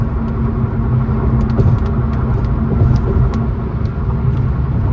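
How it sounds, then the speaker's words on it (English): Bugs strike the windshield of a car moving along a highway, making scattered sharp ticks and thuds over a constant low road rumble inside the cabin. "All those like knocking or thud sounds are literally bugs."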